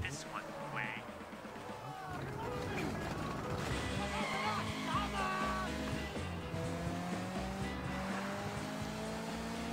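A car drives in the open-world video game Sleeping Dogs, its engine droning with a brief tire squeal, under game music and character dialogue throughout.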